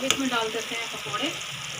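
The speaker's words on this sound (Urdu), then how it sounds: "اب اس میں ڈال دیتے ہیں پکوڑے." Pakoras drop into a pot of simmering kadhi, giving a brief close splash and plop followed by a soft bubbling sizzle and faint stirring noises.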